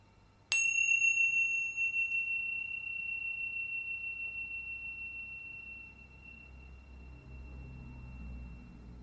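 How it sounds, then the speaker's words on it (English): A single bell is struck once, ringing out clear and sustained, its tone slowly fading over several seconds in a quiet room. "let's get into this reading first with the bells."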